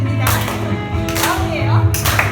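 Children clap along during a church kids' worship service, scattered hand claps sounding over a sung, musical backdrop with a voice present, spaced out in loose bursts rather than a tight beat.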